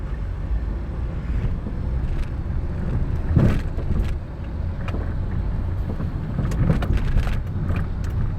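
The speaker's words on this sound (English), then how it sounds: "Okay, traffic is terrible." Heavy road traffic in Los Angeles makes a steady, dense rumble of passing cars with a few louder swells, heard from close by under wind noise.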